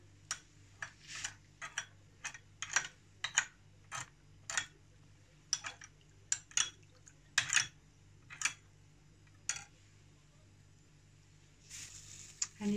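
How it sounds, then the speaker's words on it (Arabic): A spoon scrapes and taps around a bowl of chickpea soup and chili sauce, giving a steady series of short, sharp clinks at an irregular rhythm, close and clear above a low background hum. "نقلب كويس."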